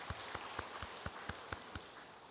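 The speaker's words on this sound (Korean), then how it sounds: "박수 한번 치죠" Congregation clapping in a church service comes as eight evenly spaced, distinct claps in a steady rhythm, fairly faint and unaccompanied by talk.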